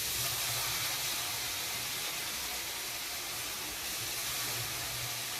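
Thinly sliced potatoes dropped into a pan of frying onions, giving a steady hissing sizzle that runs loud and unbroken throughout, with a low hum underneath and no talking.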